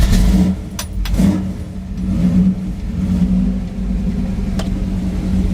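A 1966 car engine cold-starts with no choke hooked up, running with a loud, close rumble and rising in a few revs before settling to a steady idle.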